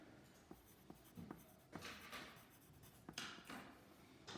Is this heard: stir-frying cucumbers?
no